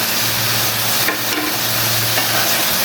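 Chopped garlic goes into a frying taro and dried-fish curry and is stirred through it, giving a loud, steady sizzle with a couple of scraping stirs.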